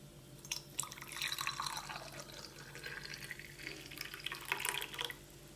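Homemade vanilla yogurt trickles and drips into jars, a soft, close liquid pour with small splashy drips that rise and fall faintly throughout.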